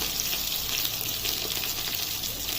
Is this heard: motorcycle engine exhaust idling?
no